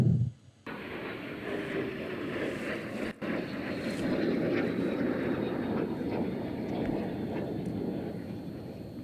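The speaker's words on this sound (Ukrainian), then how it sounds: "Пара літаків Л-39 тільки що зімітували бомбовий удар по аеродрому." Pair of L-39 jet trainers roaring over a military airfield after a simulated bombing run, a broad, steady jet rumble with wind buffeting that stays loud and sustained throughout.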